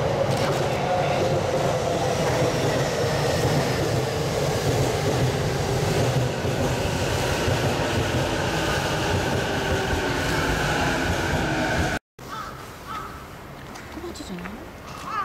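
A Komachi Shinkansen passes through the city center, giving a loud, steady rushing roar with rail clatter that cuts off abruptly, followed by quieter ambience with faint voices.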